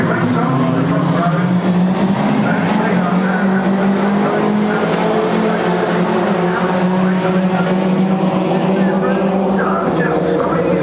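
Ginetta Junior race cars rev and pull away together at a wet, slippery race start, a dense roaring engine drone with tyre noise holding steady throughout while a commentator talks over it.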